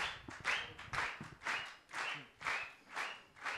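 A church congregation claps in rhythmic unison, sharp bright claps landing about twice per second at moderate distance, with faint voices and low sounds mixed underneath.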